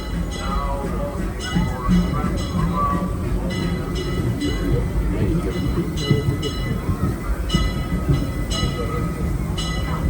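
A train on the Disneyland Railroad rumbles and clatters into Main Street, USA station, with rhythmic mechanical clicks and a steady low roar, while people talk nearby.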